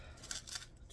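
Knife or scraper slicing through a homemade double pie crust dough, giving a short, soft cutting scrape with a few brief textured strokes, close and quiet.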